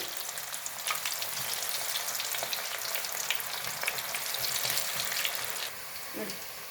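Bitter gourd chips frying in hot oil give a steady, dense crackling sizzle throughout, fairly quiet and close, with a soft clink near the end.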